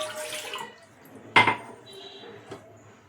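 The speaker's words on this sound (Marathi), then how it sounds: "इथे आपण 1 कप पाणी टाकून घ्यायचंय" A cup of water splashes into a pan for instant khaman dhokla in a home kitchen, a short hissing pour followed by a sharp metallic clank and a lighter knock of utensils.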